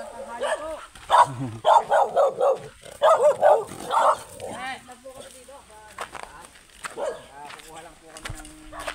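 Several sharp dog barks in a rapid cluster near the start beside a river, then quieter yips and a person talking softly.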